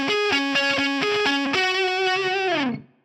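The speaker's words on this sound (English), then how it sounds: "We're going to choose plate," Distorted electric guitar through a Line 6 Firehawk/AMPLIFi amp model with plate reverb, playing a rock riff: rhythmic repeated chugging notes, then a sustained bent note that slides down and rings out into a short reverb tail.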